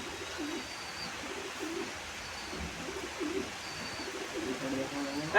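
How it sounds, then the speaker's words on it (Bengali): Pigeons, including Madras breeds, coo in a loft in West Bengal, soft repeated throaty coos under a low ambient hum, with a faint chirp or two. "এই যে ম্যাড্রাস পায়রা,"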